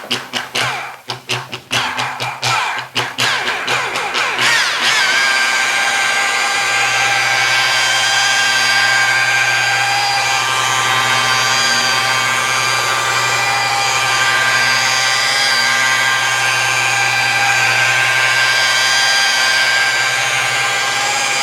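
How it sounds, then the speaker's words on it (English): A power buffer polishes car paint with rubbing compound, opening with a stuttering run of rapid bursts before settling into a loud, steady, high whine that holds continuously. "So I'm going to keep buffing on this."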